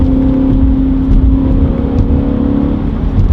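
A BMW E39 M5 cruising along, its engine holding a steady, loud drone with a low rumble and faint road noise from inside the car.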